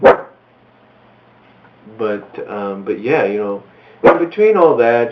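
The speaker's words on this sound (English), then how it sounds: "that's my dog in the background." A dog barks sharply twice, close by, once at the start and again near the end, between stretches of someone talking.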